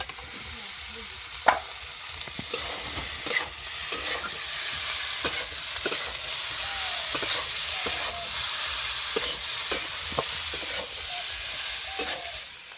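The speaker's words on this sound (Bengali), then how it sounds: "এবার দিয়ে দেবো ভেজে রাখা ফুলকপি আর আলু।" Cauliflower and potato fry in a spice paste in a pan, giving a steady soft sizzle with frequent scraping stir strokes of the spoon, close and moderately quiet, with no talk.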